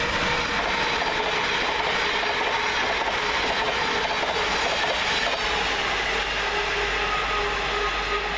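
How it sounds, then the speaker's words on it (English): A Govia Thameslink Class 700 electric train, 700-026, crawls around a curve past Welham Green station, a loud, steady rumble with wheel clatter and high squealing throughout, no voices. "Crawling around the corner for Govia Thameslink is 700-026, working 2 Charlie 26 from London King's Cross to Cambridge"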